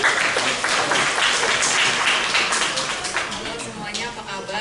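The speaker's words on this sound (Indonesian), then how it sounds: "Tepuk tangan" Loud, steady applause from the congregation at an Indonesian-language Catholic Mass at Sacra Famiglia church in Umeda, Osaka, fills the room with dense clapping, with voices audible alongside.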